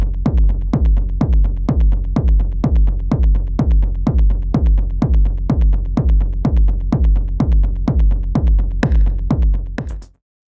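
A kick drum thumps in a steady, driving pulse under a 16th-note delay pattern, loud and unbroken for about ten seconds before stopping abruptly.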